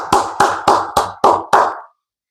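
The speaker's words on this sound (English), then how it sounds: "Clap it up." Six crisp, evenly spaced hand claps, close and loud, ending in silence.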